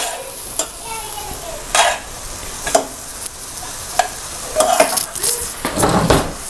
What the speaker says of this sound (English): I'll go ahead and cook this down, and then I'll go ahead and I'll add my potatoes and my cauliflower